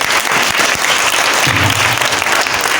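Audience applause at an evening book festival, with a dense, sustained patter of many hands clapping loudly and without pause.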